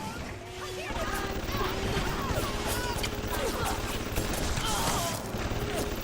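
An automated security turret in the Bioshock video game fires rapid bursts at enemies, a dense rattling fusillade with clanks and impacts under game noise and some talk.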